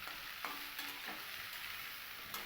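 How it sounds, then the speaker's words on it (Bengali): Carrot, potato, beans, cauliflower and peas are stirred in hot oil, a steady quiet sizzle broken by a few soft scraping strokes of a spoon in the pan. "সমস্ত সবজিগুলো দেওয়া হয়ে গেলে আমি খুব ভালো করে তেলের সঙ্গে একটু মিশিয়ে নেবো"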